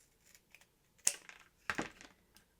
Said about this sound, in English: Let me just cut a strip off the side